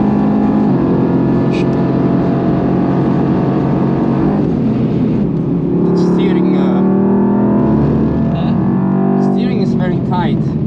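Mercedes-AMG GT R Pro with a failing power steering pump driving on the Nürburgring, a loud in-cabin engine drone with rising and falling revs throughout and people talking over it.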